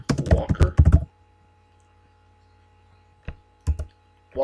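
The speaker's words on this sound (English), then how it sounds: "Let's go type in Miss Mary" Fingers type on a computer keyboard in a quick cluster of crisp clicks for about a second. A long quiet pause follows, then a few more isolated keystrokes come close and clear, with no speech.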